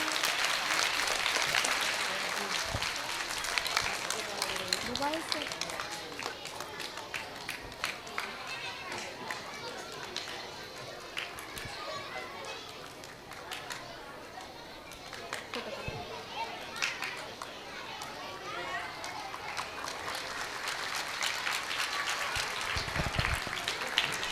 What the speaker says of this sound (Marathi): टाळ्या वाजवा सगळे. टाळ्या वाजवा,